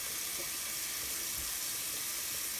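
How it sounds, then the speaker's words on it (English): Water pours steadily into the top reservoir of a PetSafe Drinkwell Platinum pet fountain, a continuous bright hiss and splash heard up close without pause. "First, we're going to fill the top part of the reservoir until the water spills out."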